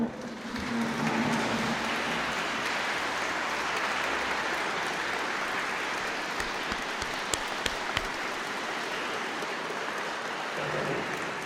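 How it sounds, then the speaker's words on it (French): A lecture audience gives sustained applause at a Lenten conference, a dense, even wash of clapping from a large room that holds steady for several seconds, with a few sharper claps standing out. "nous pouvons encore applaudir chaleureusement Benoît Nobet"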